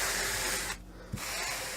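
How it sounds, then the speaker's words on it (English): Strokes of 100 grit sandpaper pulled in one direction across blue jeans make a steady, close, hissing scrape with a short pause in the middle. No one speaks. "we're going to be taking our sandpaper and just carefully, and not real hard"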